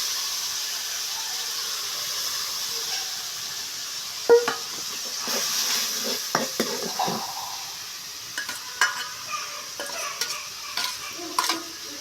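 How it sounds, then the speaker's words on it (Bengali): Onion and garlic paste frying in oil while being stirred, a steady sizzle with scattered spoon scrapes and clinks against the pot, close and moderately loud, no talking. "পরিমাণ মতো তেল দিলাম, পেঁয়াজ রসুন বাটা দিলাম,"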